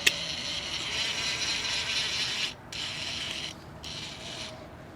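Screws are driven into an X-Class racing drone frame, giving a continuous close ratcheting, grinding whir that pauses briefly twice before resuming. No voices are heard.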